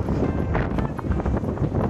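Strong wind near Cape Hedo, Okinawa, buffets the microphone in a loud, steady low rumble with gusty surges throughout.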